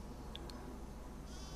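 Farm sheep in the Farming Simulator 25 game give two short, high bleats a moment apart over a steady low ambient hum, alone and with no talking.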